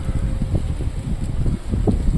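Low, blustery wind buffeting the microphone in uneven gusts, a constant rumbling roar outdoors.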